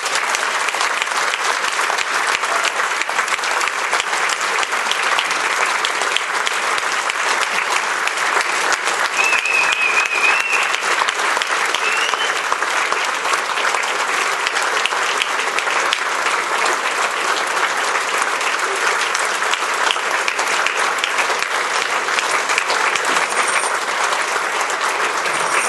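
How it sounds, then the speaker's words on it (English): Sustained applause from a crowd at a military dinner honoring nine awardees, steady dense clapping filling the room throughout with no break or talk over it. "I would like to one big round of applause for them"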